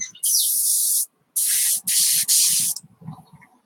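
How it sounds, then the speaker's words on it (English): Bursts of airbrush spray laying paint onto a 1/24 scale Airfix Spitfire Mk Vb model: three separate hissing blasts of about a second each, close and steady, with short gaps between and soft handling noises after. "Make sure our airbrush is turned on."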